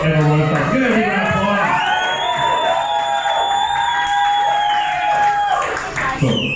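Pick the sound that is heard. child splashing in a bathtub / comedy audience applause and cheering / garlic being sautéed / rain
comedy audience applause and cheering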